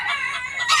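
A rooster crows at a farm keeping rare foreign chicken breeds: a single loud, close, drawn-out call rising at the finish, with no talk.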